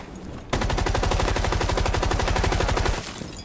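Rapid automatic gunfire in the Rainbow Six Siege video game, a loud sustained burst of evenly spaced shots lasting about two and a half seconds, then cutting off.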